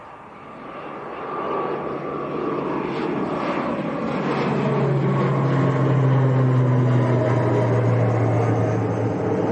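An Aer Lingus ATR 72 turboprop departs Leeds Bradford Airport, its engine drone swelling into a loud, steady roar with a slowly falling propeller hum as it passes, heard from nearby with no talking.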